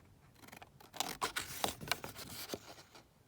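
Scissors cut through paper for a journal cover, several close crisp snips and slicing strokes in quick succession, with no talking.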